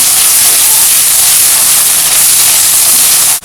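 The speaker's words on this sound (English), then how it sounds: "Now again we'll saute it for 2 minutes." Crushed garlic and ginger sizzle in a hot pan, a steady loud hiss that holds without a break before cutting off abruptly at the end.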